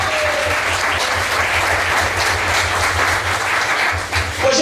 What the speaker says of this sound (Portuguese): Dê uma salva de palmas para o Evangelho.